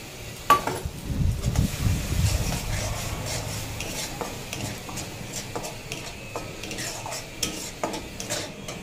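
Thick spice paste with beaten curd being stir-fried in oil for a stuffed pointed gourd and prawn dolma, giving a low, steady sizzle with scraping and clinking of a spoon against the pan, strongest early on and then settling.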